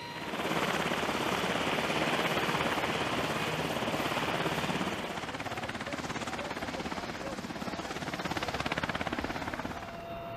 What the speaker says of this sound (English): helicopters fly high above